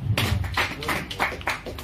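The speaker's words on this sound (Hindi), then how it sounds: "तालियां बजनी चाहिए।" An audience breaks into applause, a close, busy clatter of many hands with a few stronger claps standing out, lasting just under two seconds with no talk.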